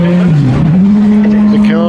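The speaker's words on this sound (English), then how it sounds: "The cars continue to go round" Rally cars driving round a stage in North Wales, a loud close engine note holding a steady drone that dips and rises as a car revs through the stage, continuous throughout.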